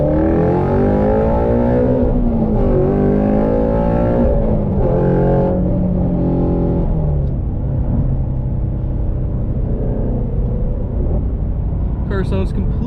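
A Ford Shelby GT350 V8 rumbles as heard from inside the cabin with the windows up, a steady low drone with a rising rev early on, while someone talks over it.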